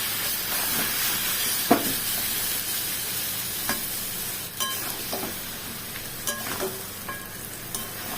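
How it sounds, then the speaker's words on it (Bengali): Country chicken sautéing in a pan with garlic and green chili, a continuous close hiss and sizzle with occasional scraping stirs and clinks scattered through, no voices. "অনেকক্ষণ ধরে কষাতে লাগলাম"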